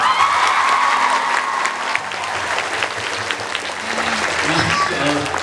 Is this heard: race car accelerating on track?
no